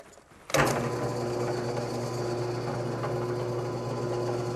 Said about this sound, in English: Now I'm going to drill a few of these.